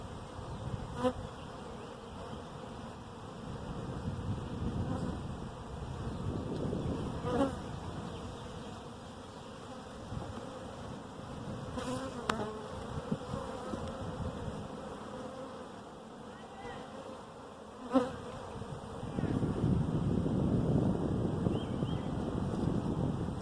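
Honey bees rescued from a tree in Wright City, Missouri, buzz in a dense, continuous drone around an opened hive, close and steady, with wind rumble against the microphone and occasional handling knocks.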